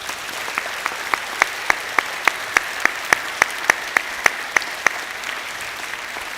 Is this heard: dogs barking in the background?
no